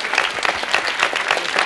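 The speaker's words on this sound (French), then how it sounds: "petite série d'applaudissements, petite salve d'applaudissements" Audience applause at a French comedy show, a short burst of many hands clapping in dense, even waves, loud and close with no talk over it.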